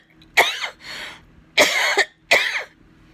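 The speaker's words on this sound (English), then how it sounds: "the cough still lingers" A person with a lingering Covid cough coughs in four harsh, close bursts, two pairs separated by a short pause, loud and raspy.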